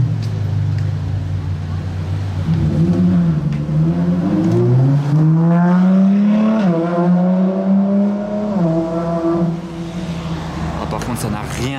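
A Ferrari LaFerrari hypercar revs loudly and accelerates on a Monaco street, its engine pitch climbing steadily and falling off near the end, with voices talking nearby.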